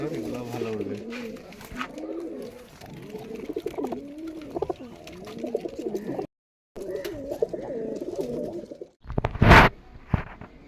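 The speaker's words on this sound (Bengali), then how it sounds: "এটা দেশি কবুতর, এটা গিরিবাজ কবুতর" Giribaz and local desi pigeons cooing at close range, their low rolling coos repeating steadily, with a brief flutter near the end.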